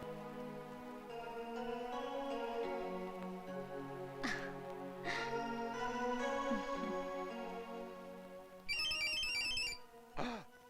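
A phone ringtone plays a repeating melodic tune, fairly loud and close, ending with a brief burst of higher electronic ringing.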